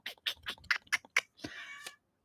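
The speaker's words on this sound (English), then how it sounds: "She just woke up to meow at me." A cat that has just woken up gives a string of short, soft chirping mews followed by one longer drawn-out meow, fairly quiet and close, with no talking.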